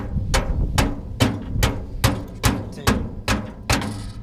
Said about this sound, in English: And this is why we brought out the hammer.